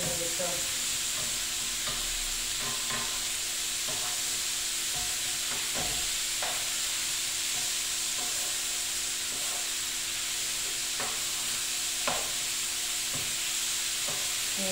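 Rice toasting in a pan that was just used for mushrooms, ahead of a mushroom risotto: a steady, close sizzle and hiss runs throughout, broken by scraping stirs at irregular intervals.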